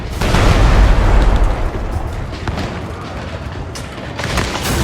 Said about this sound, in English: Aim the cannons. Now. Yes. Fire!